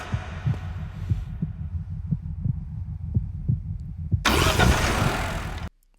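Heartbeat sound effect from a Kamen Rider scene: a steady run of low, thudding double beats under a hum, ending in a sudden loud burst of noise before cutting off.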